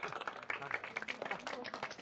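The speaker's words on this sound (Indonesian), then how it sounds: "Tepuk tanganmu, keren sekali." A small group claps hands in a classroom, in quick uneven bursts close by, mixed with excited voices talking over the claps.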